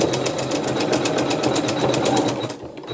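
A sewing machine with an embroidery foot zigzag-stitches thick, high-loft wool batting in a fast, even, continuous whir of needle strokes, stopping near the end.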